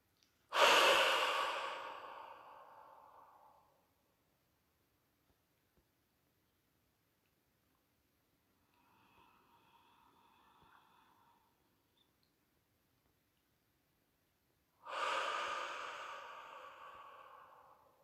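Deep breaths during a guided meditation: a long close exhale, a soft faint breath in the middle, then another long audible exhale after a quiet pause.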